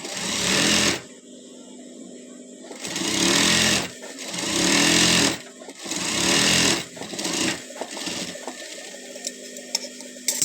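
Sewing machine stitching a child's pants in bursts of roughly one to two seconds, loud and close, with short quiet gaps between runs.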